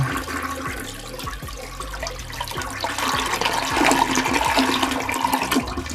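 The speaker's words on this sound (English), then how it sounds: "Let's run a toilet flush on this one." A toilet flush plays as a sound effect, with a steady roar of rushing water that swells slightly midway and keeps going for several seconds, loud and close with no talking.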